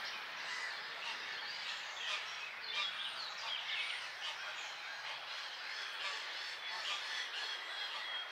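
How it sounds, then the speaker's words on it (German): Geese and their goslings in a wetland nature reserve, a continuous chorus of squawking and chattering calls, fairly close and steady throughout with no talking. "Gänse und ihre Küken haben aber immer automatisch Vorfahrt."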